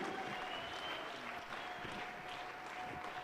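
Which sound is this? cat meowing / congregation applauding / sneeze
congregation applauding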